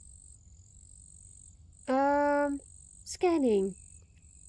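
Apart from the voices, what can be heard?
crickets chirping in a video game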